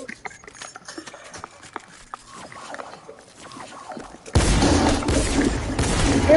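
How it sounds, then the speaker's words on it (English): Video game gunfire sounds as scattered bursts of shots under busy game noise, swelling into a dense, loud barrage in the second half. "Because I hear a bunch of gunshots."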